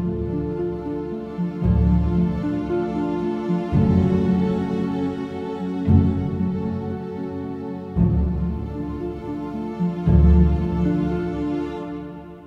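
Orchestral passage with violas and harp, sustained low strings swelling in phrases with plucked harp notes, steady and full with no talking.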